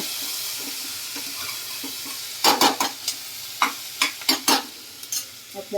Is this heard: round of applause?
no